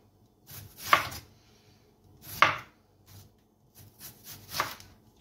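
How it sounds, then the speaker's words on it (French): A knife cuts a red onion into thin rings on a board. There are three sharp, close chops a second or two apart, each with a short crunch, and a few softer taps between them in a quiet room. "Alors pour l'oignon rouge, tout simplement on va faire des rondelles"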